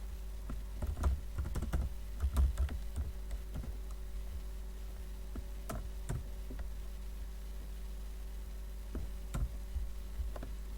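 Someone types on a computer keyboard with irregular light clicks and small bursts of keystrokes, close and fairly quiet over a low steady hum, with no voices.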